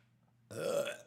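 A single loud, close burp bursts out after a near-silent start and rolls on for about half a second, alone with no talking.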